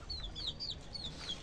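A laying hen on a small farm gives a run of soft, high clucks and chirps, several short calls in quick succession over a low, steady background murmur.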